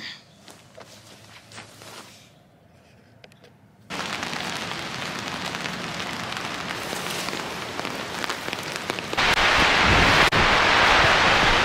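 Rain falls steadily on a surface, quieter at first, then a sudden louder dense patter that intensifies again near the end.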